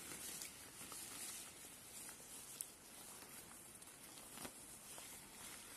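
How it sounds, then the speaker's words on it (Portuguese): Rain falling outside onto a small roof, a quiet, even patter filling the background with occasional faint soft ticks. "Aproveite o barulhinho da chuva caindo lá fora, fazendo esse som agradável no nosso telhadinho."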